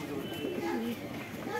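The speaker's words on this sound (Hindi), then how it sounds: "ये सभी कबूतर हैं" Desi, Madrasi and Punjabi pigeons at a pigeon sale coo in low, throaty warbles close by, repeating under someone talking.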